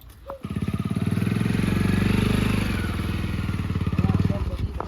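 A motorcycle engine idles and putters close by, a rhythmic chugging that swells slightly then settles, running continuously.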